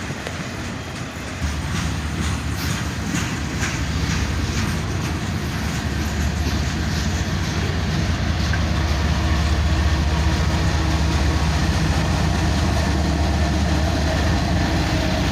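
A Union Pacific freight train passes close by with a heavy, steady low rumble and engine drone that builds after a quieter start and holds loud to the end.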